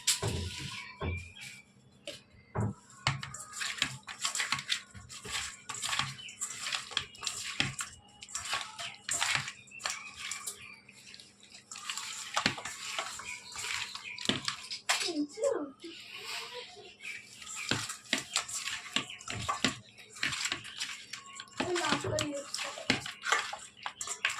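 Hands squishing and kneading pieces of scaleless fish with raw mustard oil in a bowl, giving continuous wet slapping and squelching with frequent sharp clicks, while a voice speaks now and then.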